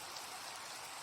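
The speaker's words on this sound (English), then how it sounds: "because it's starting to rain" Steady soft rain hisses in Minecraft with shaders, an even, faint wash of falling drops with no talk.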